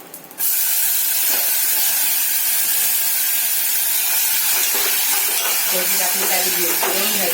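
Rice tipped into hot oil seasoned with cumin, salt and bay leaf for jeera rice, giving a sudden loud steady sizzle that holds evenly throughout after a brief quiet start.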